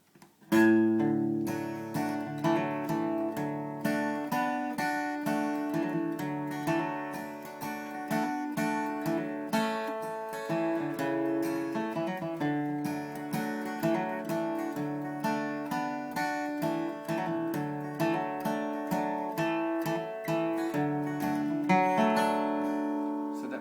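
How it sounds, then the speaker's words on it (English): A solo acoustic guitar plays a simple picked melody with steady strummed bass notes, clear and close, with no voices. "My basic solo, and this could be enough when you're just by yourself with your guitar"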